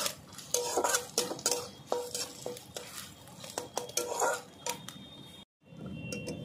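Grated coconut and raisins frying in a pan, with frequent utensil scrapes and clinks against the metal over a low sizzle, ending in a brief drop to silence.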